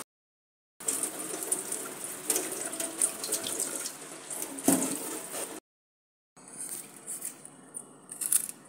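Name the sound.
water running from tap while washing vegetables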